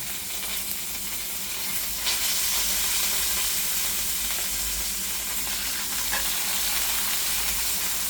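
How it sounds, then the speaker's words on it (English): A pot roast sears in a hot pan, giving a continuous loud sizzling hiss with slight swells as the meat is shifted, and no talking. "See the sear, nice sear all over."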